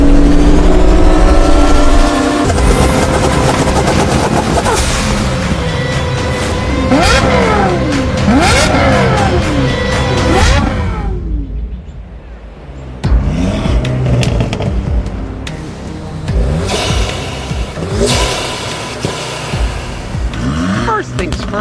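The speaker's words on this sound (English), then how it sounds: "Know what sounds even better than a V10? A V20, which doesn't exist. So, we did the next best thing, and we brought a Carrera GT." A Porsche Carrera GT V10 revs hard, with loud, close engine sweeps rising and falling in pitch and a brief lull midway, mixed with someone talking.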